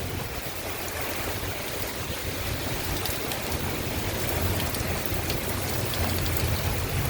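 Sheets of thunderstorm rain pour onto a flooded Virginia Beach street, a loud, steady roar of splashing water with a deep rumbling undertone that swells slightly, no voices present.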